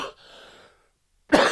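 A single close, dry cough from someone speaking on a motivational talk show, sharp and brief at the end after a quiet breathy moment and a short silence.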